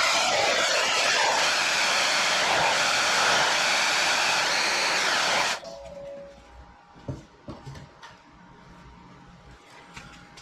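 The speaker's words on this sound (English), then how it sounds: "The hair dryer a little bit." A hair dryer blows loud and steady for about five seconds, warming vinyl headliner during a 1969 Boss 302 Mustang restoration, then cuts off abruptly, leaving a quiet room with a few light handling knocks.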